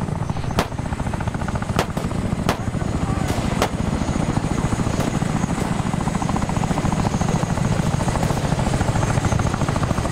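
Two military helicopters thump steadily in the ARMA 3 video game, their rotor chop loud and constant with sporadic sharp gunfire cracks over it.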